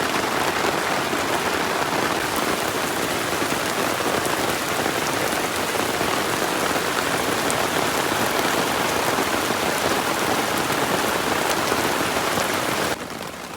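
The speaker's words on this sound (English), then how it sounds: "Oh, here comes the rain." Steady, dense rain pours down on a forest trail during a thunderstorm, a close and continuous hiss of drops hitting the surroundings with no voices.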